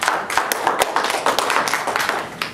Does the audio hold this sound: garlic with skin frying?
no